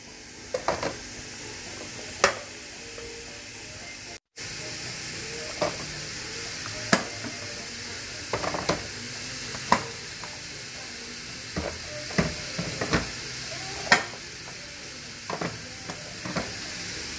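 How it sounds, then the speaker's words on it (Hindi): Chili masala roasting in a handi pot with water added, a low steady sizzle broken by irregular spoon scrapes and taps against the pot, no talk. "साथ साथ मैं पानी ऐड कर रही हूँ क्योंकि मैं हंडिया को भून रही हूँ अच्छी तरह से"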